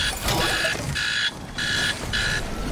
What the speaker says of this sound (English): There's alarms going off.